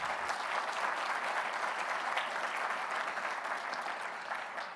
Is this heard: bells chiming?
no